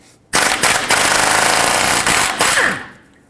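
A power tool with a 19mm socket removes a nut during upper tie rod replacement on a 2008-2010 Ford F-250, giving one loud, sustained rattling burst of about two and a half seconds, close up, that winds down at the end.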